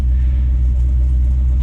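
A fully built 1957 Chevrolet Bel Air with a 3-speed transmission rumbles steadily while driving, a loud, deep continuous engine drone heard from inside the car with no speech.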